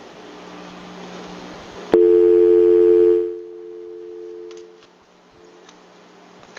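A telephone busy tone sounds loudly and steadily on a radio call-in show after a caller drops off, cutting in abruptly and lasting about a second and a half before the line fades to a quieter hum.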